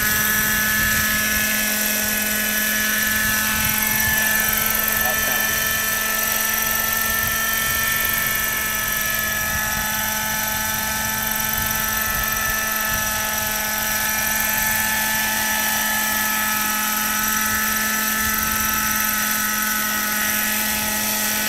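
A scale RC helicopter with a working main gear runs its engine and rotors in a loud, steady whine with a constant low hum, holding close and unbroken throughout.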